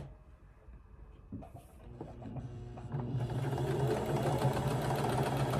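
A sewing machine stitches scrap fabric strips for a quilt with a quarter-inch seam, starting quietly and then running in a steady, loud mechanical whir close by for the last few seconds.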